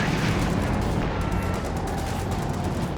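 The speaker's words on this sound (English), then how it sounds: "Nasty walking Stuka barrage." Walking Stuka rocket barrage in Company of Heroes 2, a dense loud rumble of overlapping explosions and blasts rolling continuously with no gaps, heavy low booms throughout.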